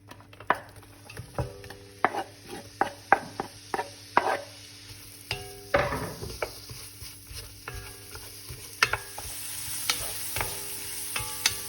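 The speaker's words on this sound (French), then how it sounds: "on va laisser fondre, sur laquelle on va y faire dorer très tranquillement les oignons" Onions fry gently in melted goose fat in a pan, with a soft sizzle underneath repeated scraping and tapping strokes of a utensil stirring them, close by with no talk.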